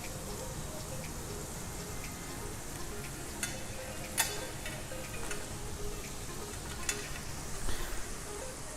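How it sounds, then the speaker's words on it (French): Water heats toward a boil in a small pot, a steady fine sizzling hiss with occasional light pops and ticks, alone and fairly quiet throughout. "Comme je vous le disais, mon eau commence à bouillir."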